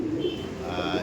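Pigeons coo softly in a loft, a low rolling murmur that carries on through the whole brief moment without any voices.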